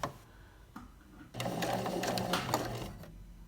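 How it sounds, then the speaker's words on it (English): A sewing machine stitches slowly and carefully over the teeth of a fly zipper, starting with a few hesitant needle strokes before a steady, close mechanical whirring run, then stopping. "I'm gonna sew over my zipper teeth, so I just wanna go really slow and be careful."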